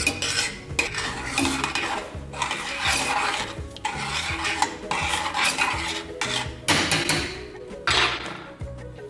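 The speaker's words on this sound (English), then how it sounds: "I'm gonna let this cook, stirring occasionally." Oatmeal cooking in a pot on the stove, stirred with a utensil that scrapes and knocks against the pot in bursts separated by short pauses, close and clear with no talking.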